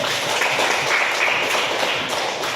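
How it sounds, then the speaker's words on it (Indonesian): Schoolchildren in a classroom clap their hands together, a brief dense burst of rapid clapping that fills the room evenly for a couple of seconds. "tepuk tangan dulu"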